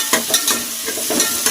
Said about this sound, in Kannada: ಒಂದು ಸ್ವಲ್ಪ ಫ್ರೈ ಮಾಡ್ಕೊತಾ ಇದ್ದೀನಿ